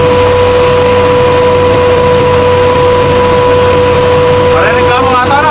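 A restaurant kitchen exhaust fan machine runs without its duct attached, giving a loud, steady mechanical hum with a constant tonal whine throughout, close up and unbroken.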